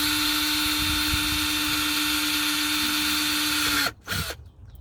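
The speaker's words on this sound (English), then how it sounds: "I'm going to drill a pilot hole and use my step-up drill bit instead" A power drill boring a pilot hole in a Scion tC, a steady high-pitched whine held at constant speed for nearly four seconds before cutting off abruptly, followed by a brief quieter burst of drilling.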